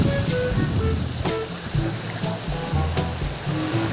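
Shallow sea waves at low tide wash and splash in a steady close rush, with a faint voice now and then in the background.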